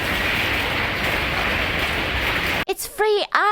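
Hail from an intense Texas hailstorm pours into a home as a dense, steady roar of ice, loud and close, for most of the moment before it cuts off and a voice speaks.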